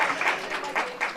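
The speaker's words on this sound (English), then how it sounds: "Let's give them another round of applause." An audience claps for two panelists at a leadership session, a brief patter of applause in uneven bursts at moderate distance.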